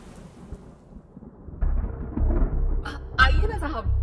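Thunder rolls and rumbles deep and heavy in a night rainstorm, rising after a quieter start with crackling bursts toward the end, a dramatic story sound effect.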